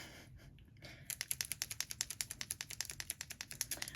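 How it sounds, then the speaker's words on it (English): Someone banging on things upstairs in a house: rapid, evenly spaced knocks, about seven per second, that start after a brief quiet moment and continue, faint and distant with no talking. "you may hear my husband banging on some stuff upstairs"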